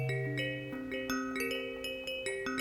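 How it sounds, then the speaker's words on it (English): Bell-like electronic tones made by additive synthesis in Reaktor, with layered sustained pitches and bright struck attacks stepping through a melodic sequence, played alone and fairly loud. "I love these bell sounds and things"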